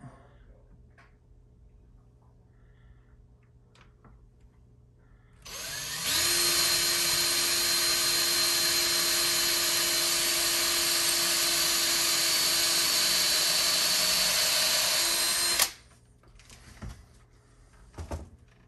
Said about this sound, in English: You may think pre-drilling for a trim screw is a little silly